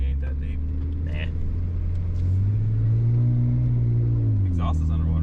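A Toyota FJ Cruiser wades through water with its custom exhaust submerged, its engine giving a deep, bubbling rumble that swells slightly midway while people talk over it.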